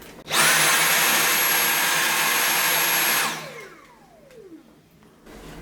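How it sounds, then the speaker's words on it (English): A Jashen cordless vacuum cleaner set to maximum power gives a steady high-pitched whine with a rushing airflow roar for about three seconds. The motor then winds down, falling in pitch as it fades. "I've set it to maximum. Let's give it a go."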